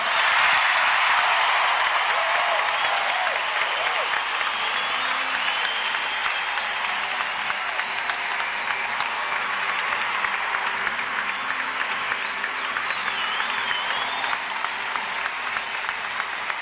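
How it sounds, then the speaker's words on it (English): At a 2006 Commonwealth Games gymnastics medal ceremony for the women's floor final, a large arena crowd keeps up long, even applause at full volume throughout. "John Howard leading the applause for Holly Dykes,"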